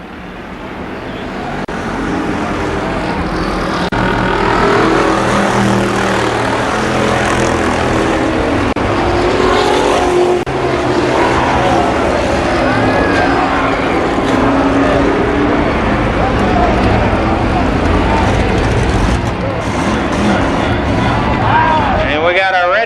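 Race cars circling the track at Columbus Motor Speedway in 1993, a steady loud engine roar that swells in and holds throughout, with an announcer talking over it.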